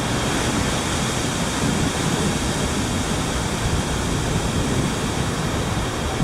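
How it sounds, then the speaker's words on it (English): Strong wind roars steadily outdoors in the aftermath of Hurricane Irma, a loud, continuous broadband rush with gusty buffeting against the microphone and no voices. "It's still windy though."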